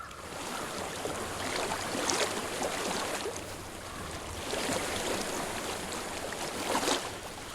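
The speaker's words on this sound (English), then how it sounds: "I hear water." Flowing water in Hellblade: Senua's Sacrifice, a continuous rushing wash of a stream or river, fairly loud and close, with gentle swells and no voices.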